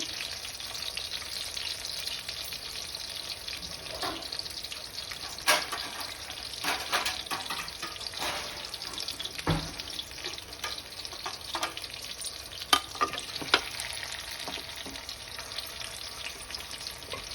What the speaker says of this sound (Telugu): నెమ్మదిగా మీడియంలో వేయించుకోవాలి